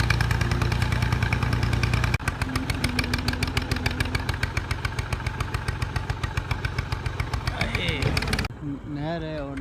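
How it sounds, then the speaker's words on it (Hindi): A tractor loaded with about 150 maunds of rice rolls downhill from a canal on a rough track, its engine chugging in a steady rapid loud thump, close and continuous before easing off near the end as a voice begins. "नहर से ट्रैक्टर डाउनवर्ड नीचे जा रहा है"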